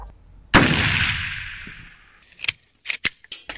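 A single sharp gunshot sound effect cracks loudly and rings out in a long decaying tail, followed by a few faint clicks and mechanical rattles.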